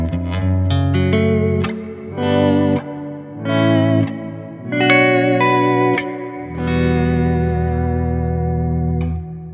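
Chroma Console effects unit processing sustained chords with lush reverb and shimmering modulation, notes swelling and decaying in several phrases, loud and close with no voices.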